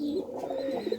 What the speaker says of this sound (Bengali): এই যে একটা মাদি, সবুজ ফুলের ন্যাংটা একটা মাদি কবুতর